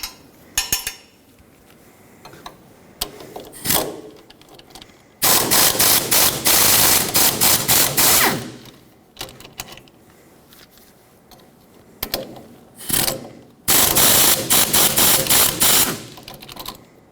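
An impact wrench unthreads the front upper ball joint bolts on a 1995-2004 Toyota Tacoma, firing off loud, rapid hammering bursts lasting a few seconds each, with brief taps and clinks in between.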